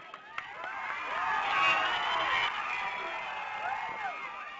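A large crowd at a political gathering in Nellore district cheers and shouts with many overlapping voices, loud and steady throughout, swelling slightly in the middle.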